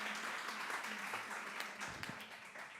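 An audience at a conference on sign language interpretation and translation in Colombia gives a short burst of steady applause, a dense wash of clapping heard from a moderate distance.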